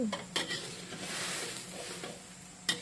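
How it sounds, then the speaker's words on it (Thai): Thai curry paste being stir-fried in a pan, with a soft sizzle under scraping stirs and a couple of sharp utensil clinks against the pan. "คั่วเครื่องให้หอมก่อน"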